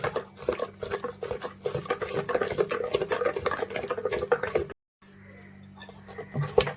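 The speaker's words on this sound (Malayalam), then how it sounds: "നമ്മൾ ചേർത്ത പഞ്ചസാര നന്നായിട്ട് യോജിപ്പിക്കണം" Sugar being stirred into a rice and coconut batter for vattayappam, a steady scraping and sloshing patter of a spoon in a bowl, close and moderate, briefly dropping out before resuming.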